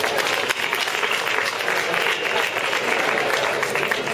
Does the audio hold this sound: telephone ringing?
no